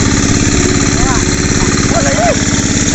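A hand tractor engine known as a turtle chugs steadily at close range, a rapid even putter that stays loud throughout, with brief whistling or voice-like chirps over it.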